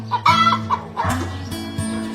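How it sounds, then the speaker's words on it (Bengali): Chickens clucking close by in short, choppy bursts, several calls overlapping in quick succession over about two seconds. "এই তো বাবা, মুরগির সাথে কথা বলছিলাম"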